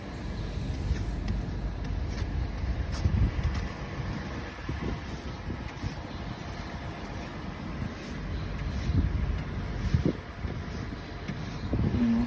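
Gusty wind roars during the first snow storm of 2020, a continuous low rumble with rising and falling buffets close to the microphone and occasional faint knocks, no voices.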